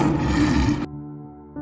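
A loud, close roar from a lion or tiger, a sustained growling bellow that cuts off abruptly into a lower tonal sound.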